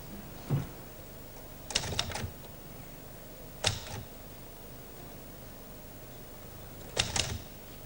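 A mechanical typewriter typing a short word onto an envelope, heard as a few sparse clusters of crisp key strikes separated by quiet pauses in a still room.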